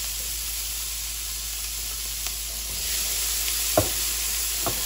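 Onions and a couple of serrano peppers sauté in rendered bacon fat, giving a steady soft sizzle with occasional stirring scrapes and a few brief louder clicks, with no talking.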